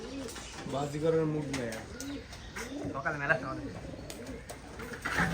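Pigeons (Giribaz breed) coo in repeated low, throaty bursts nearby at a pigeon farm, with a faint voice or background murmur underneath.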